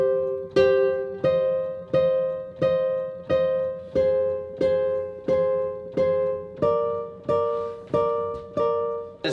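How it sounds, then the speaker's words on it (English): Guitar counter melody in an FL Studio beat, evenly spaced plucked notes repeating in a steady rhythm, each striking sharply and then decaying, close and clean with no talk. "I just found the perfect counter melody."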